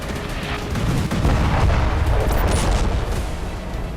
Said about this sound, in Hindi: 500 किलो के इन बमों से जोरदार धमाके हुए।